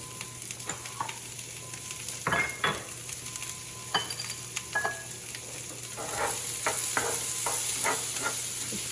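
Corned beef sizzling in butter in a pan for corned beef hash, a steady frying hiss broken by clinks and scrapes of stirring, with the sizzle swelling louder toward the end.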